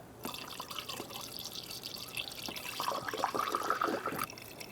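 Washer fluid pours and splashes into the windshield washer reservoir of a 2012-2018 Ford Focus, a close, continuous liquid trickle that grows fuller and gurgles before stopping abruptly.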